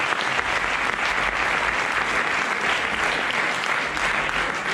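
Sustained, dense audience applause fills the room at a welcome conference for the 2019 Roc de la Lune trail race, loud and steady throughout with no pauses.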